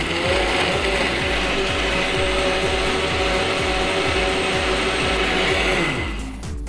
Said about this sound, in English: then we're going to blast this decadent tasting chocolate smoothie that's healthy for about